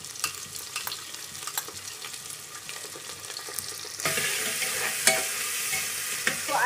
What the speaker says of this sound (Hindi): इसको अच्छी तरह से घुमा के ब्राउन कलर होने देना है।